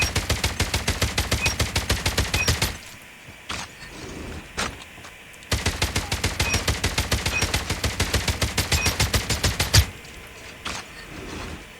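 Rapid bursts of rifle gunfire from Call of Duty Mobile, two long strings of evenly spaced shots with a few isolated single shots in the gap between them, loud and close.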